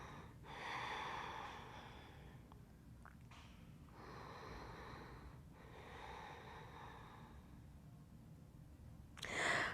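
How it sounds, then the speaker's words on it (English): Slow, deep breaths during a yoga shoulder stand, several long nasal inhales and exhales with short pauses between, close and fairly soft, ending on a sharper breath. "Breathe. Don't hold your breath."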